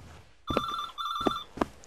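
Telephone ringing in a video game set in an asylum: two clear electronic ring bursts about a second apart, each a steady tone with a warbling pulse, followed by a short sharp click.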